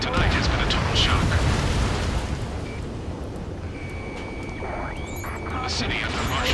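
Continuous dense roar of gunfire and explosions with rumbling low end, a high whine of jets overhead, loud and sustained throughout, in the video game Ace Combat 7: Skies Unknown.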